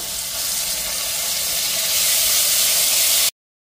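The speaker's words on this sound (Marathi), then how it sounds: "आता इथे अद्रक लसूणची पेस्ट टाकते।" Ginger-garlic paste sizzling in a hot pan for dal makhani, a loud, bright, continuous frying hiss that builds slightly and then cuts off abruptly.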